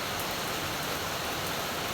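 Heavy rain pours steadily in Singapore, a dense unbroken hiss filling the whole moment with no talk over it.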